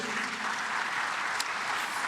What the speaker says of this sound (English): Ladies and gentlemen, please round of applause for Prof and my panelists.